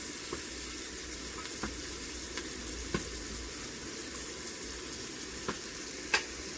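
Onions sautéing in a pan for a home-style chicken curry give a quiet, steady sizzle broken by occasional sharp pops and ticks, with no talking.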